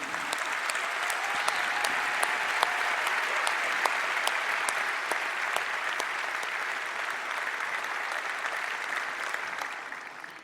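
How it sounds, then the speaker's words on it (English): An audience applauds a guitar performance at a live event in Los Angeles, with steady, dense clapping that holds evenly for about ten seconds before tapering off at the end. "So I'd like to first give David Cotter a round of applause for his guitar playing."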